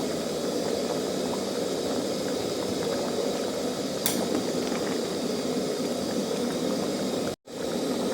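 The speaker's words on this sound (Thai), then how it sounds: "นี่ล่ะ ต้องเดือดแบบนี้ค่ะ เดือดพดพดพดพดพดพด" Bamboo shoot curry with coconut palm shoots bubbles at a hard, steady boil in a pot, with a dense, continuous, close-up simmering wash and no voices.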